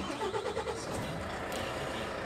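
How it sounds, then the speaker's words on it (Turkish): A Renault Trucks Euro 6.2 diesel truck engine starts up, with a short burst of cranking at the beginning that settles into a steady, moderately loud idle, with no voices. "Aracımızı çalıştırdık."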